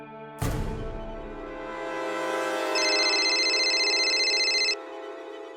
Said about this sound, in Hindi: पूजा, आप किस नंबर से कॉल कर रहे हैं?